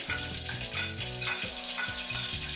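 Finely chopped shallot hits a hot pan already holding salted pearl onions, setting off a loud, steady sizzle with some stirring and clinking of utensils throughout, no voices.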